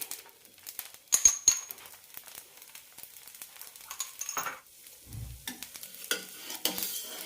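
Cucumber dosa cooks in oil on a pan with a soft sizzle, broken by a few close scraping and stirring clicks and a short low thump partway through.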